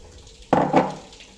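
A watermelon mocktail with ginger soda is poured from one glass into another, a short close splash that swells and trails off within a second.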